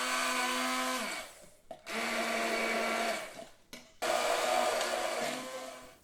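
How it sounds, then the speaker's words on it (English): A stick blender whirs loudly in three bursts while blending a medieval breakfast dish, its motor pitch sagging as each run winds down, separated by brief pauses. "But I'm being modern today and using my stick blender."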